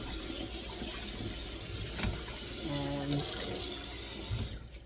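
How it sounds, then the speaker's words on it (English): Steady running tap water splashing into a sink while rinsing a Stargazer cast iron pan, a continuous close wash with brief clinks and a tonal hum partway through. "My water is running clear."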